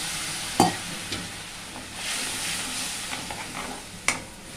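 Oil sizzles and crackles steadily in a pan as water is poured in while frying brain, with a few sharp clinks and scrapes of a utensil against the metal.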